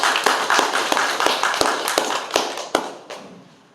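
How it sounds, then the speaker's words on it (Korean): Church congregation applauding at the close of a worship service, a burst of many hands clapping with sharp individual claps standing out, fairly loud at first and fading toward the end, with no speech. "우리 한번 하나님께 영광의 박수 올려드리겠습니다"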